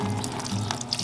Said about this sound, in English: rinse your shirt with cool water separately until the water runs clear